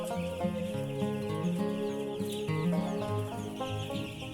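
Chickens from a flock of about 550 birds cluck steadily in their coop, a dense, continuous chorus of overlapping calls close by, with no talk.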